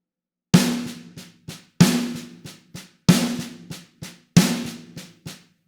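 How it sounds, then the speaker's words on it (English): Four groups on a drum, each opening with a strong accented hit that rings out, followed by a quick series of three or four soft ghost notes in a steady rhythm, heard up close. "Or maybe a series of ghost notes."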